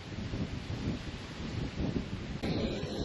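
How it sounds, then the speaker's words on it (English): Strong wind buffets the microphone outdoors on a cycling trip near Kalmar, a loud, continuous rumbling roar with gusty swells and no voices. "Gee, it's windy."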